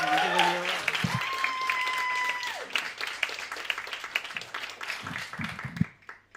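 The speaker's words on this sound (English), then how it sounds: "Please give him a big round of applause." Comedy night audience at a Warwick arts festival applauding as the next act is introduced, a room of clapping that thins out toward the end, with tonal sounds and voices mixed in at the start.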